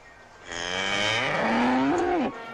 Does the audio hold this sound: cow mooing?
yes